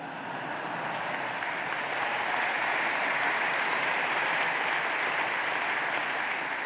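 A conference hall audience at a Scottish National Party gathering claps steadily throughout, a dense, even wash of applause that holds at a constant loudness from start to finish.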